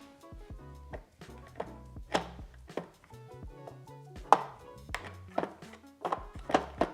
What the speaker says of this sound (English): now I'm going to take the brisket out of the Instant Pot and slice